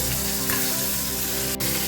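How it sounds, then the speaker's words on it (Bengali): Fish pieces, rubbed with salt and turmeric, fry steadily in hot oil, a dense continuous sizzle heard up close with no talk and only a brief break near the end. "মাছটা বেশ লাল লাল করে ভেজে নেব।"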